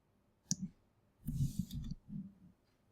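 Computer mouse clicks while editing a photo, a few soft, close clicks and faint desk handling noises in an otherwise quiet room.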